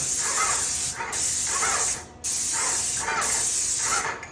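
A Graco NOVA 390 PC electric airless paint sprayer fires in repeated bursts, a loud hissing spray held for about a second at a time with brief dips and one short pause between passes.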